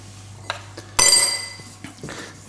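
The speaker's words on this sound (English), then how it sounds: "Just trying to get the last bit off the spoon there." A metal spoon knocks and scrapes against a pan while mustard goes into gravy: a few light taps, then one sharp ringing clink that fades slowly, close by in a quiet kitchen.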